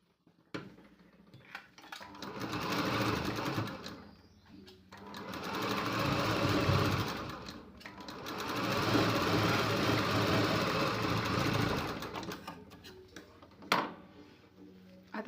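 A sewing machine stitches a strip onto a tucked blouse in three long, loud, close runs separated by brief pauses, ending with a sharp click, and no one speaks.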